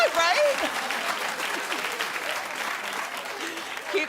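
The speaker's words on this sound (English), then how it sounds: "Keep clapping, please." A television talk show studio audience claps steadily at moderate level, with a brief voice near the start over the dense applause.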